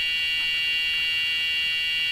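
An Arduino piezo buzzer set to tone value 100 gives a steady, piercing high-pitched electronic beep that holds unbroken and loud throughout, with no talking.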